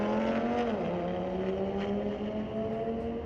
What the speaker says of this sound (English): That sounds like a fast car.